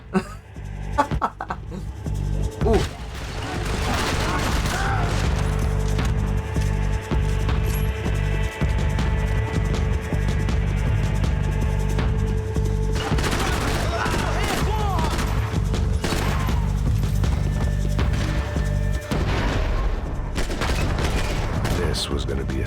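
Sustained gunfire in Max Payne 3 in the São Paulo favelas, dense rapid bursts of shots running almost continuously and loud, with a brief quieter stretch near the start and no talk.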